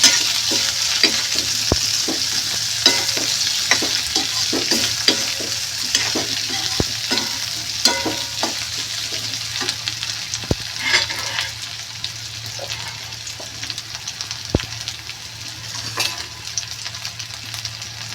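Vegetable masala of eggplant, potato and green pigeon peas (toor) sizzling steadily in a pan, with a spoon scraping and knocking through it in a loose repeated rhythm, close and fairly loud throughout.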